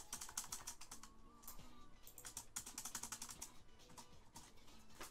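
Rapid, steady clatter of keys on a computer keyboard during a Smash Bros. stream, continuous bursts of typing up close for the whole stretch.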